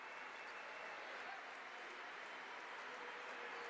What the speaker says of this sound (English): He gets a standing ovation from the crowd here at Diddle Arena.